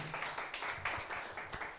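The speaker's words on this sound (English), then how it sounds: "Please, another round of applause for Ifeanyi." Workshop audience applauds in a short, fairly faint round of steady clapping heard from a distance.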